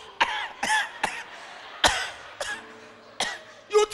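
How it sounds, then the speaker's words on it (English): A run of about seven sharp, close coughs breaks out one after another with short gaps, some harsh and throaty, during a church service. "You gonna cough."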